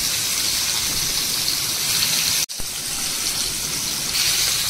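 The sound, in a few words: water running while cleaning Bombay duck fish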